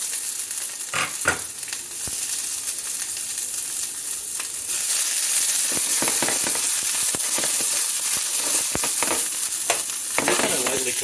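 Mustard greens fry in a hot pan for a lamb shank soup, giving a loud, continuous sizzle and crackle with sharp pops and stirring scrapes that swell partway through, with no talk.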